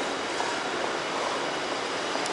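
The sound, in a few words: train riding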